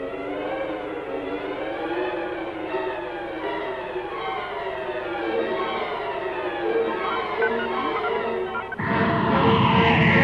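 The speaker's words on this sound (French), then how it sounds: "Et je fais marcher la sirène, capitaine." A loud wavering siren wails steadily aboard a spaceship in the science-fiction comedy film Galaxina, rising and falling in repeated sweeps, then a burst of harsher, noisier sound cuts in near the end.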